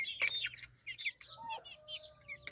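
Chickens cluck and chirp in quick, busy bursts close by, with a rooster-like call among them, over quiet background.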